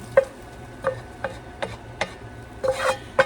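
Cooked pasta mixture being dumped from a pan into a bowl: a close run of sharp scrapes and clinks about every half second, with a longer rattling scrape near the end and no talk.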